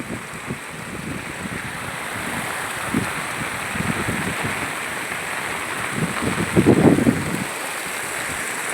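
Rushing floodwater in Chennai during heavy rain roars steadily, a broad continuous wash with occasional louder surges and gusts of wind noise on the microphone.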